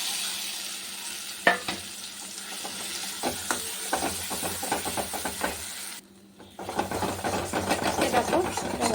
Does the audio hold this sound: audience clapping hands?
no